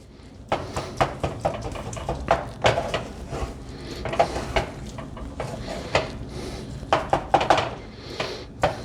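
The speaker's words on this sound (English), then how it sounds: "start stirring it around" A spoon stirs cold milk into sausage gravy in a pan, giving a steady series of close, sharp clinks and scrapes against the metal at an uneven rhythm.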